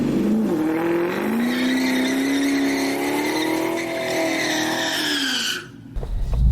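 A Ford Mustang Mach 1 doing a burnout, a loud sustained engine roar with a rising pitch and screeching tires, holding for about five seconds before cutting off abruptly.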